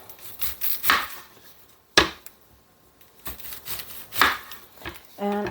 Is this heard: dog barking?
no